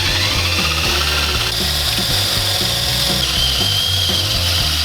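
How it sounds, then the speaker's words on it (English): A power drill whirs steadily and loudly into a metal boat deck, close up, with a continuous grinding buzz throughout and no talking. "So I'm drilling one more hole right in the center."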